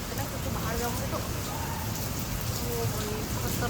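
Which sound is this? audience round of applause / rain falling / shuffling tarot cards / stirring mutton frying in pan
rain falling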